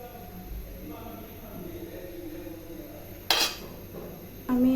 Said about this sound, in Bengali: এখন আমি এটা নামিয়ে নেব একটা প্লেটের